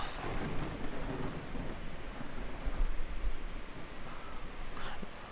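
Steady rain pouring on the ground with rumbling thunder in the survival video game Miscreated, a dense continuous wash of rainfall with low rolls of thunder throughout, no voices.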